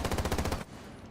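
A short burst of rapid automatic weapon fire in Rainbow Six Siege, about six quick evenly spaced shots, then it cuts off abruptly into quiet.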